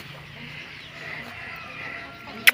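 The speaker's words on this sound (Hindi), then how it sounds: "ये भी बुला रहा है, ये बुला रहा है मुर्गियों को ना।" Poultry sound close by: a rooster calling to hens, with chickens clucking softly amid light background noise and a sharp short sound at the end.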